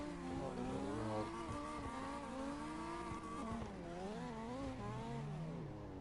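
A car engine in CarX Drift Racing revs and wails steadily, its pitch rising and falling through drifts with tire squeal mixed in, loud and continuous throughout.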